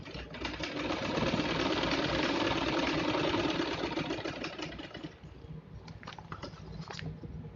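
Sewing machine running a long continuous stitch along a seam of a small fabric document holder, a steady dense whir for about five seconds, then stopping into quieter handling clicks and taps.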